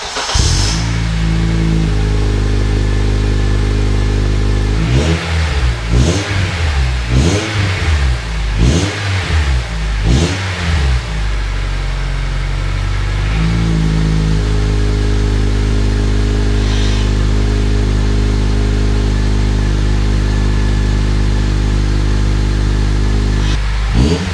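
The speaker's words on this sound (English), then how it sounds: "I'm gonna go ahead and give her the first startup." A Honda Element with a K24 engine and a custom exhaust starts for the first time, settles into a steady idle, revs up in several sharp blips, then returns to a loud, close idle.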